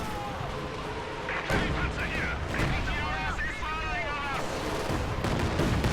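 Artillery and rocket fire in a World War II strategy game, Katyusha launchers hammering Axis forward defensive positions, a dense continuous roar of blasts and whooshes with quieter voices mixed beneath.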